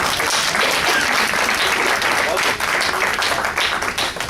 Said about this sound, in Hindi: तो ताली बजा दीजिए।